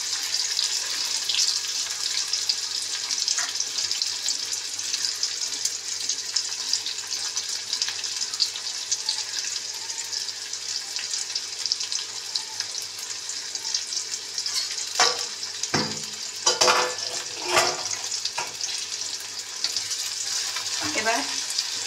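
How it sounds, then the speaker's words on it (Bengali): Onion and green chillies fry in hot oil for alu posto, a loud, steady, close sizzle that holds throughout, with a few clattering stirring or scraping knocks near the end. "এবার তেলের মধ্যে দিয়ে দিচ্ছি পেঁয়াজ, কাঁচা লঙ্কাও দিয়ে দিলাম।"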